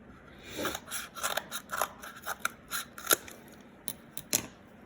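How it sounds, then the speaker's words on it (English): A quick series of close scissor snips, about a dozen crisp cuts, trimming a little off a handmade holiday gnome craft. "Actually, I'm gonna cut a little bit off."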